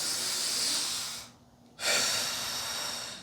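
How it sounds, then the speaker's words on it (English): A long, breathy hiss of slow belly breathing for a demonstration, first a drawn-out breath, a short pause, then another strong, airy breath, close to the microphone with no talk. "That's belly breathing."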